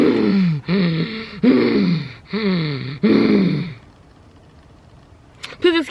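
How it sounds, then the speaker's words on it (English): Five loud, strained breaths with a groaning edge come in quick rhythm close to the mic after a gym machine workout, then fade into quiet panting. "Please excuse my heavy breathing."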